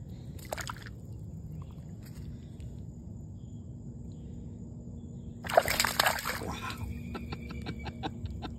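A fish released into a small puddle splashes, with a brief slosh early on, then a louder burst of thrashing splashes followed by scattered drips, all close by over a low outdoor background.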